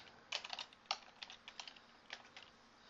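Keys clatter on a computer keyboard while CSS code is typed into Dreamweaver, a quick run of light, close taps in short bursts with brief pauses and no talking.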